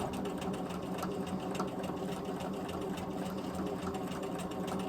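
A home sewing machine stitches steadily while a quilt sandwich is moved slowly by hand in free motion quilting to trace a backwards swirl, producing a continuous fast needle hum with no speech.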